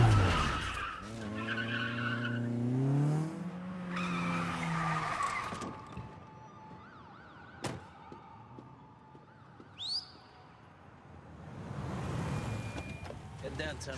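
A car skids with a brief tire squeal after a shout. A siren-like tone and other street noises follow more faintly, and the scene stays fairly quiet overall.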